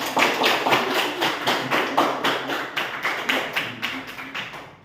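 A group of students applauds after a classroom discussion, a dense wash of clapping that stays steady for several seconds before trailing off.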